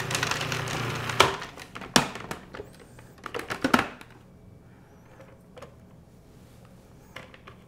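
A knife cuts squash into smaller pieces with several sharp, uneven chops close by over the first few seconds, then fades to a few quieter taps, with no talking.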